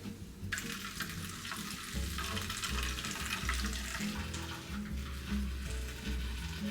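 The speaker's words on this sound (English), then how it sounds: "And then I just strain that through a cheesecloth." Homemade nut milk strained through cheesecloth, giving a steady, close wash of trickling and splashing liquid with soft low knocks underneath, continuous throughout with no talking.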